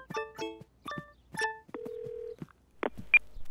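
A cartoon telephone being dialed, heard as a quick series of short keypad tones followed by a longer steady tone and a few brief beeps, clear and close with no talking.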